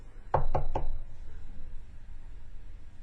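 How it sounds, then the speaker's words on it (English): Three quick knocks rapped on the glass of a door, close and sharp, evenly spaced, followed by quiet room tone. "tapping on the glass"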